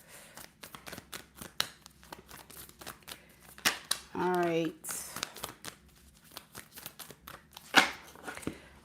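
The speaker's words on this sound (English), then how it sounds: "I'm gonna shuffle it one more time" A new deck of cards being broken in and shuffled during a live tarot-style reading: rapid crisp riffling and snapping clicks with a brief whirring burst midway, close and fairly quiet, with a voice speaking briefly.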